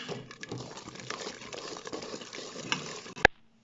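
Easter cake batter with half a glass of oil and vanilla sugar being stirred in a bowl, a steady soft scraping and sloshing at close range that runs about three seconds, then a sharp knock before it stops.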